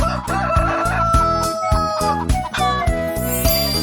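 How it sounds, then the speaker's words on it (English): A rooster crows over a rhythmic music backing, the call clear and prominent with bright repeated tones. "Rooster."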